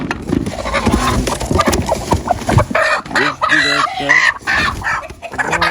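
A broody hen clucks loudly and repeatedly up close in a village, with agitated squawks, while people talk over it.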